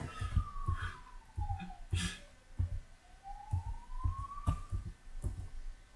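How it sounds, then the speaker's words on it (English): A wailing siren sweeps up and down in pitch over a steady rhythmic thumping, clearly audible and fairly close in a Dungeon Crawl Stone Soup gameplay setting. "I hear a siren."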